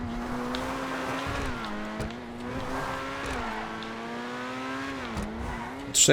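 Rear-wheel-drive Lampadati Corsita sports car in GTA Online, a carbon-bodied two-seater of about 1,500 kg, its engine droning steadily and rising and falling through corners with some tire noise, close and continuous, ending on a brief loud burst.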